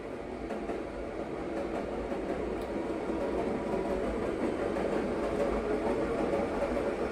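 A train rumbles steadily past on the tracks, a continuous low roar with faint rhythmic clatter, fairly distant and without speech.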